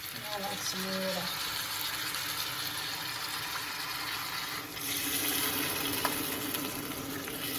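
Water pours into a pan of sizzling pork and fennel sausage stew in a steady rushing stream that gets louder near the end, with a person talking briefly at the start.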